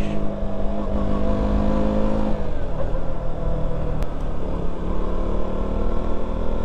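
A KTM Duke 200 motorcycle engine revs and drones loudly on a night ride through Mumbai streets, its pitch rising and falling close by, with no voices over it.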